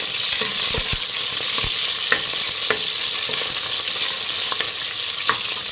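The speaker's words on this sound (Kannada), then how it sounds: "ಈರುಳ್ಳಿ ಚೆನ್ನಾಗಿ ಫ್ರೈ ಆಗಬೇಕು" Onions fry with curry leaves in a pan for Karnataka rice bath, a steady bright sizzle with scattered spoon taps and scrapes, close and fairly loud, no voices.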